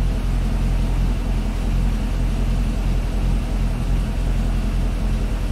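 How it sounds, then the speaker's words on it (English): 2013 Chevrolet Corvette with its engine running at idle, a loud, steady low rumble close by that holds unchanged throughout, with no voices. "I'm just gonna scan it with the engine running."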